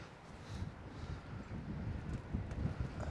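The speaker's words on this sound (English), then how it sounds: "We have some pretty strong wind here today" Strong wind during a blizzard buffets the microphone in low, gusty rumbles that swell and fade for a few seconds, fairly faint with no voices.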